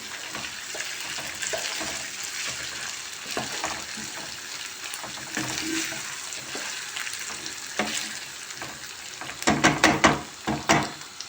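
Rice toasting in a pan for a Turkish pilaf, sizzling and crackling steadily while a spoon stirs it, with a burst of louder scraping and clattering near the end.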